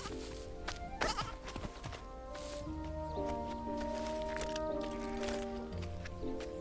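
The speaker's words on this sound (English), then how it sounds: "Another sheep." Sheep bleat in an animated short, with a few wavering cries under a busy backdrop of music and other sound effects.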